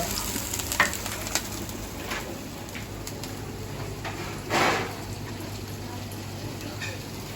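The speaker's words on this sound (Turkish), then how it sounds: "Sosunu kış kış kaynıyor." Tomato paste sauce sizzling and bubbling in a hot pan at an Alanya street food stall, a steady hiss with occasional louder spits and stirring clatter.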